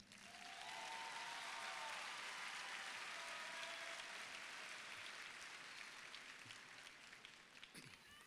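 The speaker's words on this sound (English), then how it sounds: "You may applaud now." A graduation ceremony audience at Duncanville High School applauds, a dense, even wash of many hands clapping that swells quickly, holds steady for several seconds and eases slightly at the end, heard from some distance.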